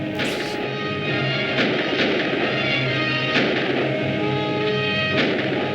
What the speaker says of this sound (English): There's gunplay.